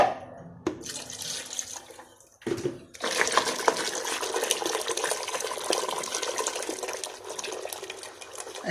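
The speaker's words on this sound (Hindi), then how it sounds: "थोड़ा इसमें पानी डालती हूँ।" Water poured into a pot of dal gosht just out of a pressure cooker, a steady splashing gush that begins after a brief stop-start and runs on loudly to the end, with no talk.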